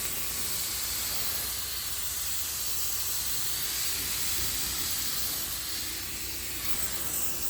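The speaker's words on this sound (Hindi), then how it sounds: "यहाँ पे स्प्रे करेंगे इस वाले खेत में" A pesticide sprayer hisses continuously in an apple orchard, giving a steady, even spray without pauses and no voices over it.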